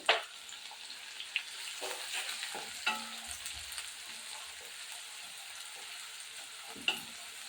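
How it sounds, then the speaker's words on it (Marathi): Finely chopped onion frying in oil with crackling mustard seeds and cumin for a radish stir-fry: a faint, steady sizzle with occasional clinks and scrapes from the pan, close but quiet, with no voices. "जिरं आणि मोहरे छान असं तळतळ झालं की त्याच्यामध्ये आपण एक कांदा टाकूया बारीक चिरून घेतलेला कांदा आहे"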